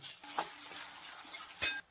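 A spoon stirring ginger-garlic and green chili paste in a hot pan, soft scraping with a faint sizzle and a sharp metallic clink near the end, close and with no talking.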